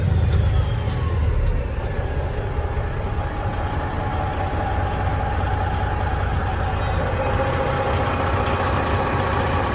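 Engine of a 2016 Peterbilt 389 glider truck running smooth and steady at operating temperature, a continuous deep rumble with a faint whine on top, close and with no one talking.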